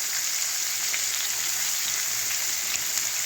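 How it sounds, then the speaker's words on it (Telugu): Thinly sliced onions and green chilies fry in a pan, giving a steady, close hiss and crackle with no voices. "ఇప్పుడు నేను సన్నగా తరిగి పెట్టుకున్న ఉల్లిపాయలు, అలాగే పచ్చిమిరపకాయలు అవి వేసేస్తున్నాను"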